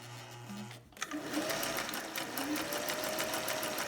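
A sewing machine stitches a half-inch shoulder seam on the front and back neckline of a garment, with fast, even, close mechanical clatter that runs steadily after a brief pause.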